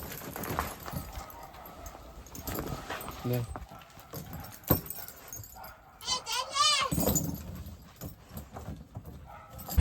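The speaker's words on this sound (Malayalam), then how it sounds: "നമ്മുടെ നാട്ടിൽ നിന്ന് ഒരു ഡോഗ് ജർമ്മൻ ഷെപ്പേഡ് ക്രോസ് ആണ്" A German Shepherd cross dog is loaded into a vehicle and gives short whines and whimpers amid thumps and shuffling. People talk throughout, often over the dog.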